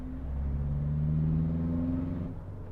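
Modified Mahindra Thar with a stage 2 tune and water methanol injection pulling hard in second gear, a loud close engine drone climbing steadily in pitch for about two seconds before easing off.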